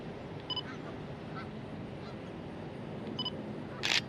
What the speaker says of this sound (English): Those are all geese in there.